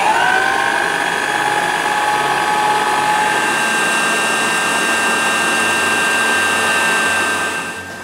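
A stand mixer whips a small batch of batter with only two eggs for pandan talam cake, a loud steady motor whine with a high tonal hum that runs continuously and cuts off near the end.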